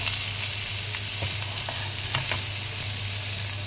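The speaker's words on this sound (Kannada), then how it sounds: "ಎರಡು ಕಡೆ ಫ್ರೈ ಮಾಡ್ಕೊಳ್ಳಿ ನಿಧಾನಕ್ಕೆ" Masala-coated fish frying slowly in a tava pan, a steady close sizzle with faint crackles throughout and no talking.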